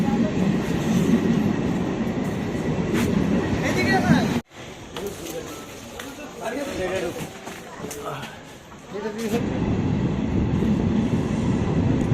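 A train rumbles loudly past nearby near Susunia Hill, Bankura, its wheels roaring and clattering, with a quieter stretch midway before the heavy rolling noise returns.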